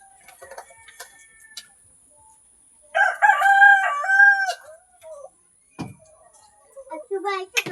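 A rooster crows in a long, loud call partway through, with shorter clucks and fowl calls before and after, while people talk nearby.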